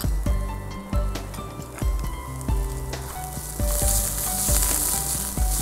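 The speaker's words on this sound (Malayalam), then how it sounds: "ഏകദേശം നല്ലപോലെ ഇളക്കി ഒന്ന് വഴന്ന്, വല്ലാതെ റെഡ് കളർ ആവണ്ട, ജസ്റ്റ് ഒന്ന് വഴന്നാൽ മതി" Onions and curry leaves sauté in a pan for biryani masala with a steady sizzle, broken by repeated close scraping strokes of a spoon at an uneven rhythm, with no voices.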